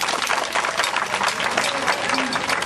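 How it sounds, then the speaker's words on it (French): A crowd applauds and cheers at a ceremony in Zatobouza, with dense, steady clapping filling the whole stretch and a voice audible over it. "Saluez-le par les acclamations aussi également."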